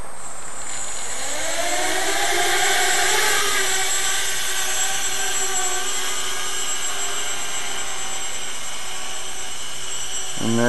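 An X-configuration multicopter fitted with a KK2 flight board in auto-level mode spins up its rotors: a rising whine that climbs in pitch, then settles into a steady, loud, close buzzing drone as it lifts off and hovers.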